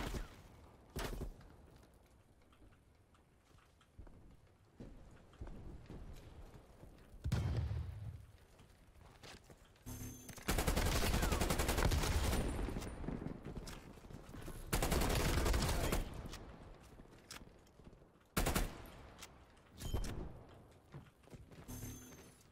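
Call of Duty Cold War multiplayer gunfire, scattered bursts and heavier volleys of shots over roughly twenty seconds, rising into loud sustained stretches mid-match amid ambient battle noise.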